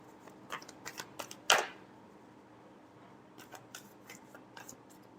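Tarot deck being shuffled by hand, a series of quick soft riffling flicks with one sharper snap of cards, then more light flicks, faint and close in a quiet room.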